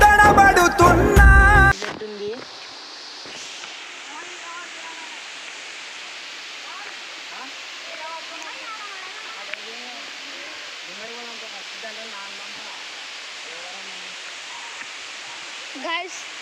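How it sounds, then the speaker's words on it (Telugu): The Thalakona hidden waterfall rushes in a steady, even roar with faint chirps above it, after a loud, busy burst of other sound in the opening two seconds. "గాయ్స్ వాటర్ ఫాల్స్ సూపర్ అనుకోండి గాయ్స్, వేరే లెవెల్ గాయ్స్."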